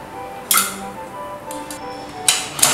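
A metal lid settles onto a 9-litre pressure cooker and is locked, giving a few bright clanks and clinks with ringing metallic tails, the loudest near the start and two more toward the end.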